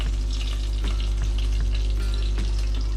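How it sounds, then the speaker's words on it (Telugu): Long-cut green chillies fry in hot oil inside a pressure cooker, a continuous loud sizzle with a steady low hum and occasional crackles, with no voices. "ఆయిల్ వేడిగిన తర్వాత దీంట్లో ఇలా పొడవ కట్ చేసుకుని పచ్చిమిర్చి"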